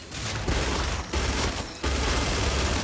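Loud, rapid sustained gunfire from a weapon in the video game Starfield, delivered in a few long bursts with brief gaps between them, no talk.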